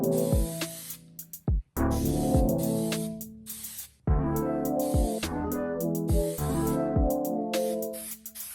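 A thin coating is sprayed onto knife blades in long steady bursts of loud close hiss. Short pauses split the bursts, and no one speaks.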